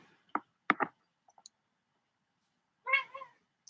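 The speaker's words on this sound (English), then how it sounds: "Oh, look at my kitty." A pet cat meows indoors, several short, close calls in quick succession followed by a longer drawn-out meow after a pause, with a couple of faint clicks in between.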